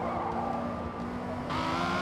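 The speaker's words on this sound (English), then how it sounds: "I like how this bad boy sounds with an exhaust" Engine note of a Toyota Camry TRD fitted with an exhaust in Forza Motorsport, a steady droning hum with a brief dip midway and a brighter surge near the end, heard alone.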